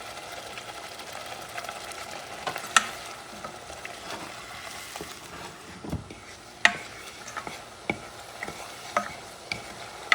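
Beef chili ingredients dusted with smoked paprika are stirred in a pan, the spoon scraping and clacking several times over a faint, quiet sizzle nearby.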